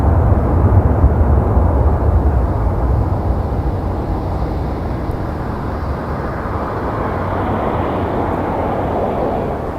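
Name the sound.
Sunwing airliner landing on runway 24 right, engine reversers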